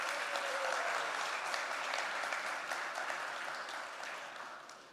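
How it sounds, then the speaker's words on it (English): Audience at a smartphone launch event for the OPPO Find X9 series applauding in a large hall, dense sustained clapping that slowly fades toward the end. "Can we have a big round of applause?"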